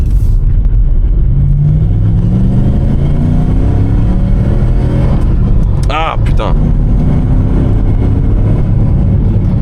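An old family car converted into a race car drones loudly under hard acceleration while driving, its engine note climbing through the gears, with a brief exclamation from the driver over the steady roar.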